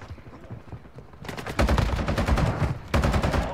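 Lachmann 762 rifle firing in Call of Duty on a close-quarters map, loud rapid automatic bursts, a long stream of shots, a brief gap, then another burst, with no talk.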